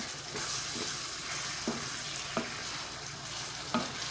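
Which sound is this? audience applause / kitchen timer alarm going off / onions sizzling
onions sizzling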